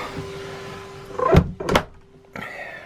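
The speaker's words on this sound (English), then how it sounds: "Shut the door." A door is pulled shut with a couple of close knocks and a latch click, followed by a soft thud in a quiet interior.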